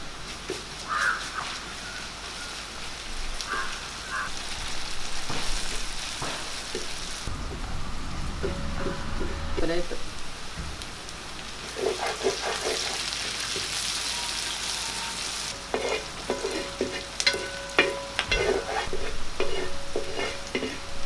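Garlic ginger paste frying in a pan for a pepper chicken gravy, a continuous close sizzle broken by repeated scraping and stirring strokes of a utensil against the pan, with no talking.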